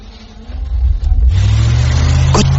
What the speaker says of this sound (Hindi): मैं गाड़ी में बैठा और गाड़ी स्टार्ट की।